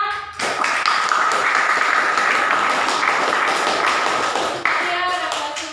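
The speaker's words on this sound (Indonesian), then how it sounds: "beri tepuk tangan." Students applaud together in a school classroom, a loud, dense burst of clapping that runs for several seconds and then thins out toward the end.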